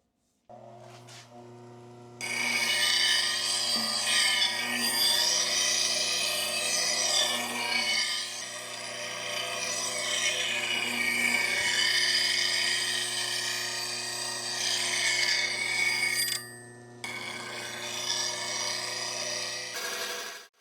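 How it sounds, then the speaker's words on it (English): A woodturner's bowl gouge is sharpened in one long, steady abrasive hiss over a constant low hum. It breaks briefly near the end, then resumes. "You just saw me sharpen the bowl gouge."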